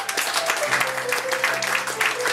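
An audience at an anniversary evening event applauds steadily, with dense clapping throughout and a faint tone in the room.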